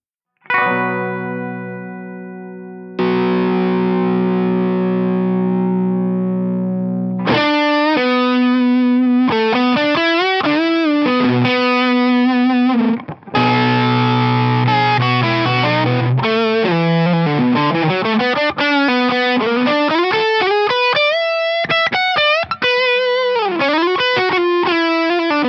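An electric guitar runs through a PRS Horsemeat transparent overdrive pedal with the voice and treble rolled back, playing sustained chords and then flowing melodic lines in a smooth, warm, overdriven tone. It plays alone, loud and close, with no talk.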